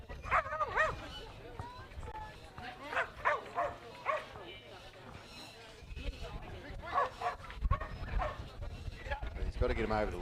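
A Kelpie working dog barks in short, repeated bursts across a yard dog trial at the Australian Yard Dog Championships, the yips and barks rising over steady commentary and background crowd and livestock noise.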